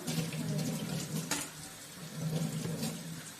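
Water runs from a kitchen tap while things are washed at a sink, a steady close splashing rush that swells and eases, with a brief sharp clatter partway through.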